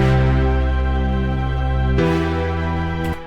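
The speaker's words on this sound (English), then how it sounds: "session strings from Contact." Session Strings sample library from Kontakt playing sustained string chords in an electronic arrangement, a long held chord that moves to a new one near the end, loud and clear with no talking.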